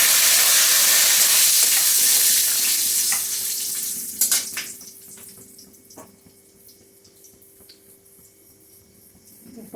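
Whole small cardamom pods and bay leaves frying in hot oil for egg korma, a loud bright sizzle that fades down after a few seconds with a few clinks and stirring sounds.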